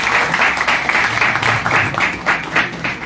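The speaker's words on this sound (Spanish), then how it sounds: "Maestro, un fuerte aplauso también para él." Audience applause at a book presentation on teaching law in Tapachula, Chiapas, a steady dense patter of many hands clapping, fairly loud and close, running throughout without a break.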